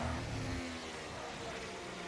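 A Ferrari and a McLaren race car battle in a racing game, their engines a steady loud drone with a gear-shifting pitch sweep at the start, no talking.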